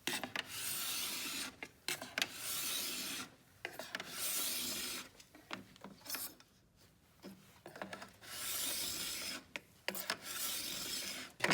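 A metal file scrapes along the hardened base edge of a ski during tuning, giving repeated harsh rasping strokes in bursts with short pauses between them, close and fairly loud.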